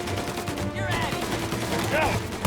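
Gunfire from Mafia: Definitive Edition: rapid bursts of shots and ricochets crackling through the fight, with shouting voices mixed in over the shooting.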